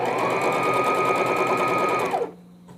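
Stitching piping around a newborn baby vest, a sewing machine hums loud and steady for over two seconds before cutting off sharply into quiet.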